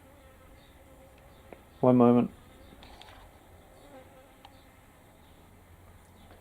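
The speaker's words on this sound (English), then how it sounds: "now I've got a fly in here buzzing around" A housefly buzzes indoors in one loud, close burst lasting about half a second, then falls silent while a voice briefly speaks.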